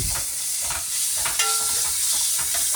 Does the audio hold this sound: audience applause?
no